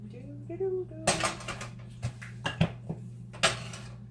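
Utensil scrapes and clinks against a large pan as a breakfast burrito is rolled and turned, a handful of sharp metallic taps spaced irregularly over a steady low stovetop hum, with a voice heard briefly at the start.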